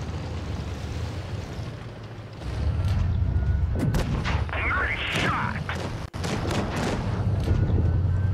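Tank cannon shots in World of Tanks Blitz, with a Super Hellcat and an IS-3 in a match, sounding as loud booming blasts over a constant engine rumble, with a sharp crack near the middle and someone talking throughout.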